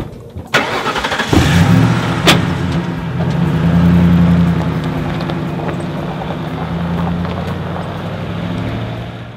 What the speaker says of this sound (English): Let's just get back in the car and then we'll drive around him.